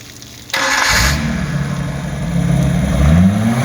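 An 89 Mercruiser 4.3 V6 marine engine with a Holley 4-barrel carburetor cranks and fires after a brief quiet moment, then runs with a loud, close, rumbling idle that swells slightly as the revs rise.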